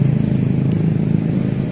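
Yamaha Alfa motorcycle engine running through an F1ZR exhaust, a loud, close, steady idling rumble with a fast throbbing pulse and no voices.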